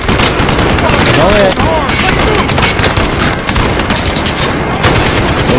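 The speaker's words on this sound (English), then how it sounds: "MG still going" Sustained machine gun fire in the shooter game Call of Duty: Modern Warfare (2019), loud and continuous with dense overlapping bursts and booms, while a player speaks briefly over it.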